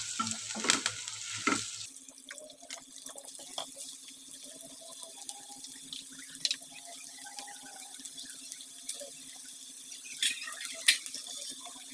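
Onions, green chilli and curry leaves sautéing in a pan for egg gravy, a brief loud stirring clatter at the start, then a soft low sizzle with occasional scrapes and a faint steady hum, no talk.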